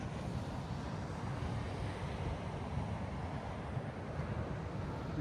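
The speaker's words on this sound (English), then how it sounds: "Waves are right there." Ocean waves wash onto the shore at Whiskey Gulch, Alaska, in the dark, a continuous, fairly faint roar of surf blended with wind rumble and no voices.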